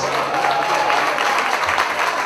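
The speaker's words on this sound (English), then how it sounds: "Give it a round of applause." Steady round of applause from a crowd at a legislative breakfast for the West Indian Day Parade, dense clapping filling the room without pause.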